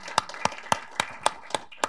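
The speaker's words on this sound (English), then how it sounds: "Please join me in giving them a round of applause to welcome them here to Hudson." At a policy panel event on space strategy, claps come as seven sharp, evenly spaced hits in a steady rhythm, sparse and distinct rather than a full crowd roar, with quiet between each.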